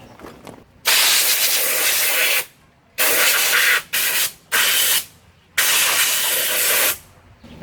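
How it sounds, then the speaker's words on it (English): Compressed air from an air compressor blasts debris off the engine head of a 1976 Gravely 566 tractor in several loud, close hissing bursts of a second or two each, separated by short pauses. "I'm gonna get the air compressor turned on. Try to blow that out"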